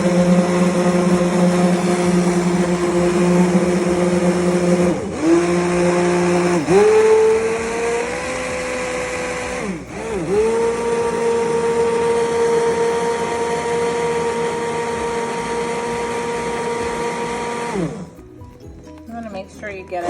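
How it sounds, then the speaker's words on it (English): A motorized immersion blender whirs steadily at close range while mixing a homemade sea moss, honey and beeswax body frosting, its pitch dipping briefly a few times as it bogs down, then cutting off near the end. "You want to take your immersion blender"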